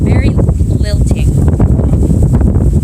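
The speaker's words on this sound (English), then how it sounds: "It's windy." Strong outdoor wind buffets a microphone with a steady low rumble throughout, while someone speaks briefly over the gusts.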